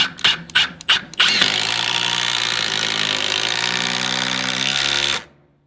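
A Milwaukee power tool drives hard into a timber-frame column for a hunting cabin: a few short bursts, then a sustained loud, steady grinding whir that stops abruptly, with no talk.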